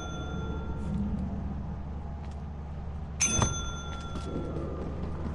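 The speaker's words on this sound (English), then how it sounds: "It says ring the bell until you hear it answer and then back off and remain quiet." A bell rung once in the video game Lethal Company, a sharp metallic ding with a ringing tail over a constant low hum and faint background noise.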